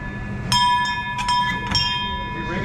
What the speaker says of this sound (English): If you ring a bell in a bar, you gotta be careful.